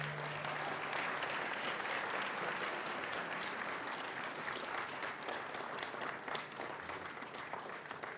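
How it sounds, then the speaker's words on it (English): An audience at the Turning Point breakfast event applauds. The clapping is sustained and evenly dense but fairly soft and distant, and it holds steady for the whole stretch with a faint hum underneath. "Can we give Nadine and Stephen a round of applause?"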